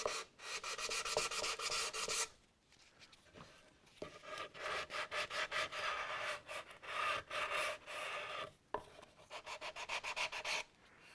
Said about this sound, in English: I'm just doing a little sanding right here.